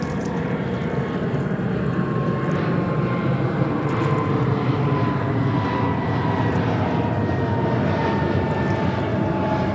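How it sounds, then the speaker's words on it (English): An Air India airliner taxis toward runway 13 at JFK Airport in New York, its engines giving a steady, loud, continuous roar with no break. "Air India taxiing to runway 13,"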